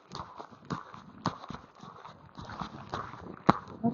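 Kentucky Mountain Horse, a pacey gaited mare, cantering on a trail: a series of soft, close hoofbeats in an irregular rolling rhythm, with one sharper strike standing out near the end.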